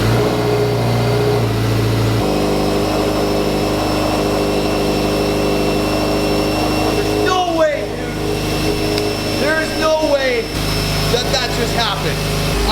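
A Subaru STI being checked for a misfire runs with a steady mid-pitched engine drone close by, settling at idle, while someone talks over it.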